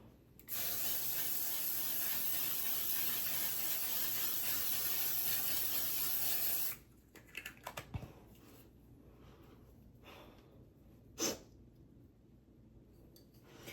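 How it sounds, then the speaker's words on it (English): A steady, continuous spray of makeup setting spray hisses for several seconds, then stops, leaving quiet room tone and a few faint clicks. "enough to where the setting spray doesn't get in my eyes"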